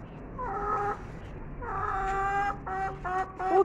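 Hen clucking and calling close by in a backyard flock, a rising, drawn-out cackle in several repeated bursts with short pauses between, loud and clear with no talk over it.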